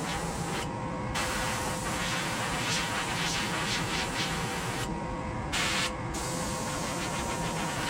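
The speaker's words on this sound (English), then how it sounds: "Got the airbrush. A little bit of opaque white." An airbrush sprays opaque white paint onto a handmade fishing float, a continuous close hiss of air with a few brief changes in tone as the spray is adjusted, no talking.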